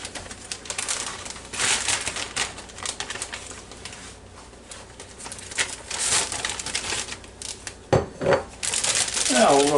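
Squash, zucchini and onion with Italian seasoning tossed in a gallon Ziploc plastic bag, heard as close, irregular crinkling and rustling bursts with soft knocks.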